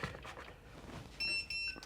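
A meat probe thermometer beeps over beef ribs, giving a short run of bright electronic beeps in the latter half after quieter kitchen sounds, faint and with no talk.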